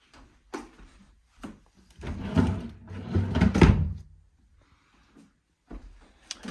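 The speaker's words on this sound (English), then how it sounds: "Also, there's some built-in drawers." Built-in drawers in a house being pulled open and pushed shut, a few wooden sliding rumbles and knocks with brief gaps of quiet between them.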